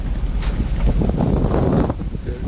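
Wind buffets the microphone while sailing aboard a yacht, a steady broadband rush with low rumble and water noise running throughout, no voices.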